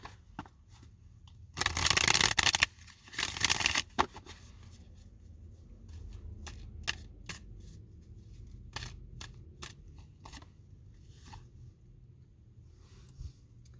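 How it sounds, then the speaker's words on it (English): A deck of tarot cards being shuffled, two loud riffling bursts near the start followed by softer taps and card handling, close and alone with no talk. "With a good shuffle."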